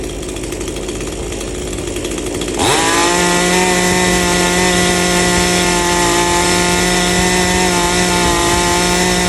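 A tuned 58cc chainsaw engine idling roughly, then revving sharply to a loud, steady high-pitched whine that holds at full speed, close by.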